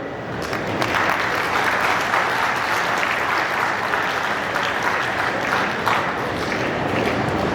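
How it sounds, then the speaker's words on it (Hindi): Loud, sustained applause from a large crowd at the inauguration of an arts fair, steady clapping that fills the whole stretch without a break. "बजाओ तुम जोरदार ताली"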